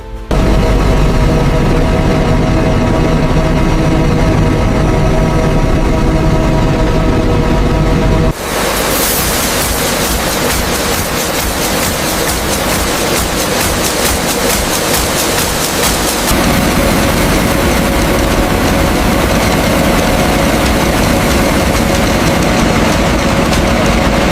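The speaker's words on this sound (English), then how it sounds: "the wheat undergoes its first major cleaning, as high-frequency vibration separates the valuable kernels from unwanted impurities" An industrial wheat cleaning machine in a communion wafer factory vibrates to shake kernels free of impurities. It makes a loud, unbroken mechanical drone that shifts in tone partway through and keeps rumbling steadily.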